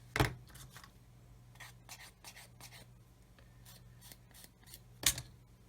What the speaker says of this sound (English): So we can cut that sprue off of there,